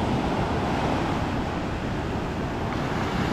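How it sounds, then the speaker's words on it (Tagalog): Big ocean waves roar in a dense, continuous wash of surf and wind noise, loud and close with no clear breaks between swells. "Oh, lalaki ng alon."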